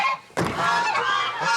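Geese on a small farm give a loud, close, drawn-out honk after a short quiet gap, with a raspy rising call and faint background farmyard noise.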